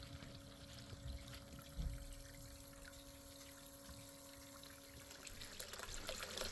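A Miller table runs a steady, faint wash of water over gold concentrates from a cleanup sluice at a frozen creek, a continuous trickling hiss with a low pump-like hum.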